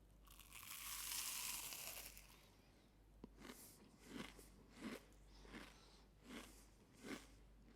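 Biting and chewing a crunchy bird-nest sweet of fried noodles with a cashew in the middle, soaked in sugar syrup: a rustle, then a regular run of about six crisp, close crunches, quiet, with no talk.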